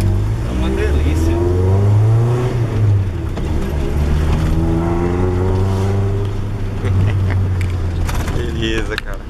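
A Volkswagen Gol Highlander's engine revs while the car drives, its droning pitch climbing and falling through steady acceleration, loud and close throughout.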